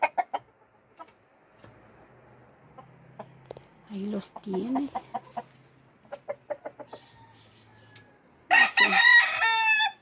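Roosters crow and cluck nearby at a rural home, with scattered calls building to a loud final crow. Someone talks briefly between the calls.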